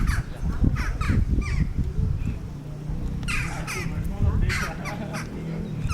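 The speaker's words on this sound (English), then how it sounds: "They appear to be crows, and they are talking, not singing, talking constantly to each other." Crows caw back and forth at the ruins of the Minoan palace at Knossos, Crete, in repeated harsh calls from several birds, some nearer and some farther off, with steady low background sound.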